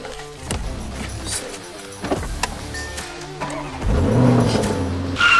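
Lamborghini Urus engine cranking and catching after a jump start, a brief starter whir followed by the engine rising into a steady idle near the end.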